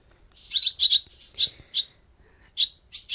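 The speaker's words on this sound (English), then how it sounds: "one of the parents came and sat on a wire up in the loft and checked me out, and then they called, and then a couple of the babies flew in" Birds call at their nest in a loft, with a series of short, sharp chirps in separate bursts, fairly close and clear against a quiet background.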